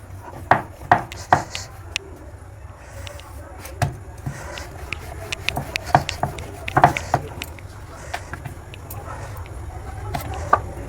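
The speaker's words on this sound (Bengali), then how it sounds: "এবার আমি অল্প অল্প ময়দা গুঁড়ি দিয়ে এগুলোকে রুটির মতো বেলে" Dough pieces rolled out into roti-like rounds on a floured surface with a rolling pin, a run of soft, irregular knocks and rubbing scrapes at close range, fairly quiet, with no talk.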